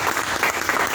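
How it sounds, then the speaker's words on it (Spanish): A short burst of audience applause for a guest at a novel presentation, dense and even clapping from a room full of people. "un aplauso por favor para Miguel Falque Setán, que nos va a acompañar hoy."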